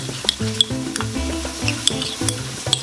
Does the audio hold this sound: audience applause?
no